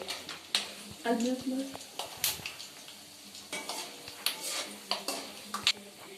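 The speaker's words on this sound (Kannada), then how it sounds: "ಫ್ರೈ ಮಾಡ್ಕೋತಾ ಇದ್ದೀನಿ. ಕಡಲೆಬೇಳೆ, ಕಡಲೆ ಬೀಜ ಈ ತರ ಓಪನ್ ಆಗ್ಬೇಕು." Chana dal and peanuts frying in a pan, soft sizzling under a voice, with repeated spoon scrapes and clinks against the pan as the mix is stirred.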